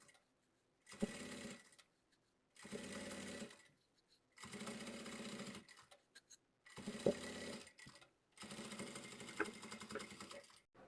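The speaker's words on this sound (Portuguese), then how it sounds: "Minha cremalheira tá aqui e o calcador tá deslizando por ela." A sewing machine stitches fabric for a lined zip pouch, the presser foot gliding along the seam, running in five steady, rapid bursts with short quiet pauses between them, close and fairly soft.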